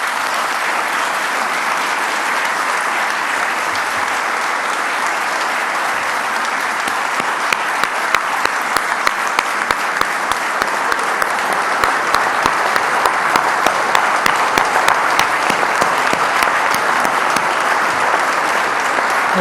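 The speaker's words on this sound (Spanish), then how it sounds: "démosle el aplauso más grande que tengamos" Sustained crowd applause at a political speech, a loud dense wash of clapping throughout with sharper individual claps growing more prominent in the second half.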